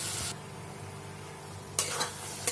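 Mustard paste is stirred into a fish curry in a pan, with a burst of hissing sizzle at the start, a quieter simmering stretch, then renewed sizzle and a couple of scraping stirs, close and alone.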